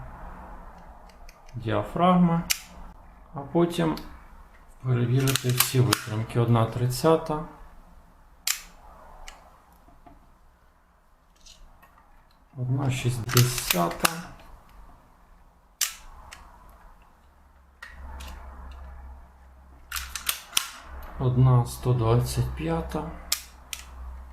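A Soviet Vilia film camera is worked by hand with the shutter on manual bulb exposure, producing repeated sharp mechanical clicks and snaps in clusters under ongoing speech.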